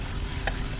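Chicken masala with garlic ginger paste fries in mustard oil, a steady close sizzle with a brief stir of the pan midway.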